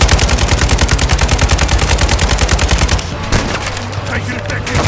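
Sustained automatic gunfire rattles in a rapid, unbroken stream of loud, close shots, then gives way to scattered bursts and rumbling noise.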